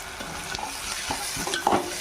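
Onion paste frying in a pan for Andhra chicken curry, a steady low sizzle under repeated stirring scrapes, close and fairly quiet, no talk.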